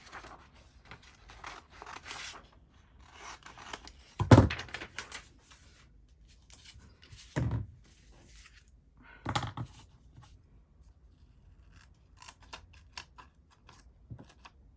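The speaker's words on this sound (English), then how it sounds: "They're little embroidery scissors, but I don't use them for my embroidery. I use them for fussy cutting" Small embroidery scissors snip paper for fussy cutting, giving soft close clicks and crisp cuts, with a few louder thunks of handling between quiet gaps and no talking.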